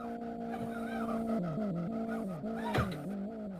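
A Live for Speed racing game engine, heard through a Logitech G29 wheel setup, drones steadily while tires squeal under braking in long wavering tones with pitch dips, close and continuous, with no talking.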